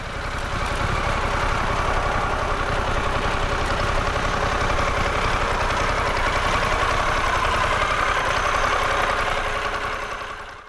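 A Harley-Davidson Pan America Special motorcycle engine runs steadily with a quiet exhaust and noticeable mechanical engine noise, a constant close rumble with a fine rapid pulsing texture that holds for about ten seconds before tapering slightly.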